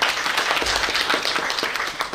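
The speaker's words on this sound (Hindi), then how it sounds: "जोरदार तालियां हो जाए।" An audience at a Kalam literary event of the Prabha Khaitan Foundation in Jaipur gives steady, dense applause, many hands clapping together at close to moderate distance with no talk over it.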